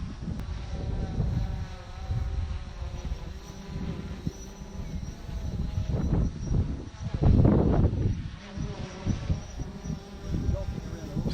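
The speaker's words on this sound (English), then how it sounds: "So the wind was about 25 kilometers an hour, gusting up to about 50." Gusty wind buffets the microphone at a beach, with the wind around 25 km/h and gusts near 50 km/h; loud, continuous rumbling roar that swells into stronger gusts midway, without any speech.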